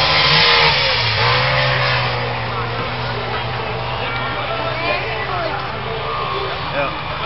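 Trabant stock cars race in a junior-class heat at a September 2016 stock car meeting in Basepohl, a steady droning of small two-stroke engines at mid distance, while a commentator talks over it.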